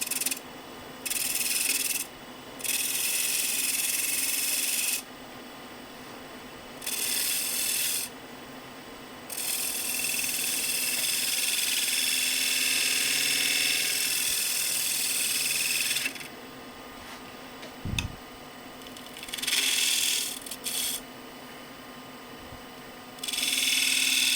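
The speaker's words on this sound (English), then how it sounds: "Just light strokes with the spindle gouge." A small spindle gouge taking light cuts on a wooden box spinning on a lathe, steady rasping hiss in long strokes with brief pauses between passes, close and fairly loud.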